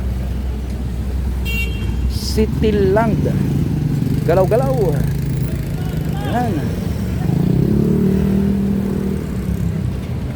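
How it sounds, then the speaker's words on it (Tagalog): Motorcycles and tricycles idle and rev at a tricycle terminal near Vito Cruz, Manila, with a steady engine rumble, a short horn toot and people talking over it. "Terminal ng tricycle."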